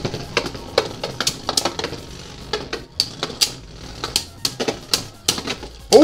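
Cognite C3 Beyblade Burst Evolution tops clashing in a stadium, delivering rapid, irregular sharp clacks of hard plastic colliding, close and loud, with no talking.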